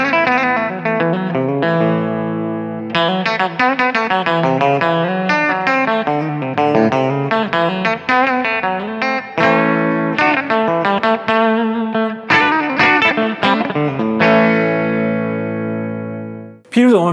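A Fender Stratocaster played through its bridge humbucker on a clean tone gives close, loud single notes and chords in a continuous phrase with short gaps, ending on a sustained chord.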